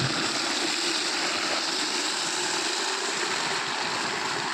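Water being poured into a sprayer pump tank for mixing crop pesticide, a steady continuous rushing splash that stays loud and even throughout with no voices.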